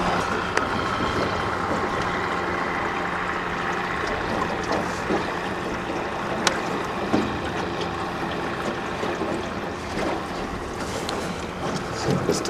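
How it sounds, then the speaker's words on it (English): New Hope Ferry passing on the water, a low engine rumble carried over wind noise and lapping water, moderately distant and steady throughout, with occasional small knocks nearby. "Here comes the New Hope Ferry."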